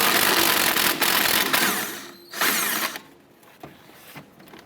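A power tool with a 14mm socket whirs and rattles in short loud bursts while removing the upper clevis fork bolt on a 2008-2012 Honda Accord strut assembly, fading to faint clicks and handling noises.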